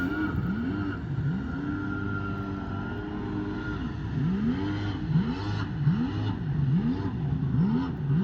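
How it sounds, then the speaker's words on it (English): A car engine revs repeatedly while the vehicle turns in circles, rising and falling in steady cyclic pitch swoops, fairly close and continuous. "he's revving his motor"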